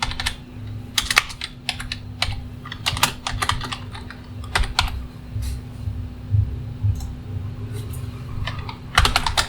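Typing on a computer keyboard during a JavaScript programming lesson, with irregular clusters of close key clicks and pauses over a low steady hum.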